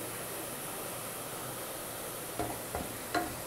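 Soft, steady sizzling of onions sautéing slowly in a pan with turmeric for potato curry, with a few light stirring scrapes near the end and no talking.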